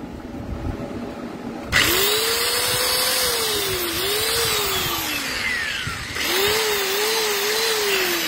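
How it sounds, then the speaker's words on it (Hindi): A grinder with a built-in laser starts up and runs with a steady, loud high whine, its pitch sagging and recovering as it spins, then surging louder again near the end. "लेजर वाला ग्राइंडर चल गया"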